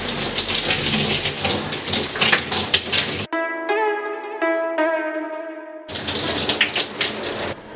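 Shower water runs steadily while a hair treatment is rinsed out of curly hair, a loud hiss that stops for a few seconds while music plays, then resumes.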